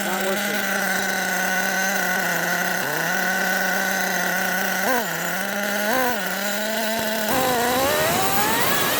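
The small high-pitched nitro engine of an HPI Savage X 4.6 RC truck with a stuck transmission whines steadily, its pitch dipping and climbing in several revs before rising sharply near the end.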